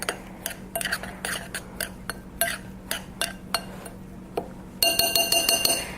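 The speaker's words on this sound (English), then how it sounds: "So I'm just going to mix that together." A utensil stirring baking mix, cornmeal, chili powder and salt in a bowl gives irregular light clinks and taps against the dish, close by. Near the end, faster, denser scraping follows.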